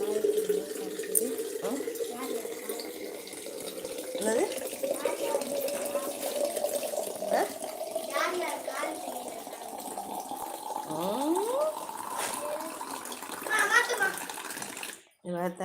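Water pours steadily into a container, a continuous trickling rush, while people, including a child, talk over it.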